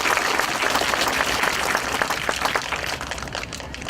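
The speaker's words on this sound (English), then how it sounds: "We give her a big round of applause." An audience at an elementary school event applauds the president of St. John's Children's Hospital with loud, sustained clapping from many hands that tapers slightly toward the end.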